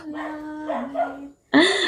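A dog barks and whines in short bursts, a drawn-out tone followed by a sharper, louder yelp, close by.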